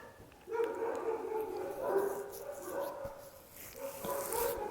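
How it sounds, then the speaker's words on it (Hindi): Dogs fighting and barking outside, a mix of yips, whines and barks at moderate distance, rising and falling over a few seconds, with someone speaking nearby. "ये कुत्तों की लड़ाई चल रही, शायद बाहर कहीं भौंकने में पड़े।"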